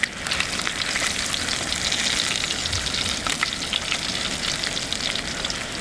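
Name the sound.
fish frying in a pan without cooking oil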